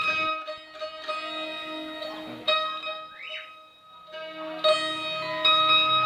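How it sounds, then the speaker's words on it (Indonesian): A siter, a Javanese plucked zither, rings out in a series of bright plucked notes with long sustaining tones, some struck singly and others in clusters, heard alone and clear. "Siter merupakan alat musik tradisional dari Jawa Tengah yang cara memainkannya dengan cara dipetik. Berikut adalah contoh bunyi dari siter."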